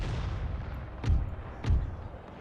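Cannon artillery in Empire Total War booms twice in quick succession, each a heavy low blast standing out over a dense continuous battlefield din.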